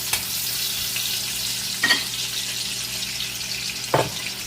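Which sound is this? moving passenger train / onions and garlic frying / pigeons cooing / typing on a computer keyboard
onions and garlic frying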